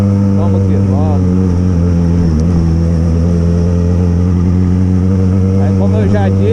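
Yamaha XJ6 motorcycle engine rumbles loudly and close at night, a deep steady idle with brief revving swells, no talk over it.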